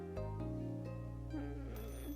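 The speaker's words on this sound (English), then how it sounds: "Just then, the phone rang." In the video game Assemble with Care, a telephone rings with a soft electronic trill over a quiet tonal music bed, faint and brief.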